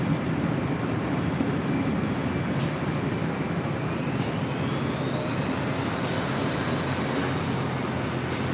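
Southwest jet airliner taking off from runway 24 left at LAX, heard as a loud, sustained jet engine roar from a distance, with a whine that gradually rises in pitch as the aircraft accelerates.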